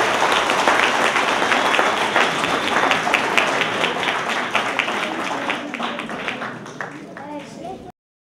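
A theatre audience at a parish oratory performance breaks into sustained, dense applause that starts loud and slowly thins out before cutting off, with voices mixed into the crowd.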